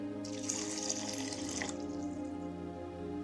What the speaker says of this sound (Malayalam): ആവശ്യത്തിനുള്ള വെള്ളം കൂടെ ഒഴിക്കാമേ